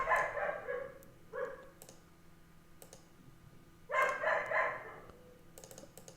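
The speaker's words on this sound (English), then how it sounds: "That dog is not stopping." A dog barks outdoors in repeated bursts, a pair of quick barks and then a longer run, with sharp clicks in between and no talk.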